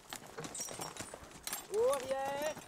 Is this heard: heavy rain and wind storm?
no